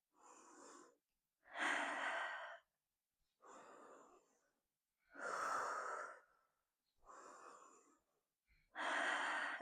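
Deep yoga breathing during a lunge with goal-post arms, slow alternating inhales and exhales, each breath a soft airy rush lasting about a second, evenly spaced, close and quiet, with no talking.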